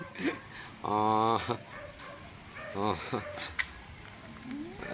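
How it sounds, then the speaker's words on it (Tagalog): A dog gives a couple of short, harmonic barks or yips at close range, separated by a pause, over faint outdoor background noise. "Ayan yung aso ko yan."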